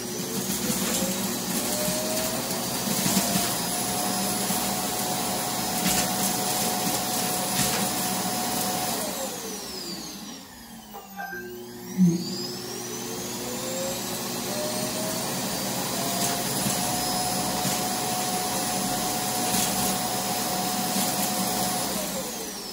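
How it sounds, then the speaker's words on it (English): An iRobot Roomba i7+ empties itself into its self-emptying base bin with a steady, loud vacuum roar, which dips and shifts pitch briefly midway as the robot moves before the rushing suction continues. "See, it's going to empty itself again"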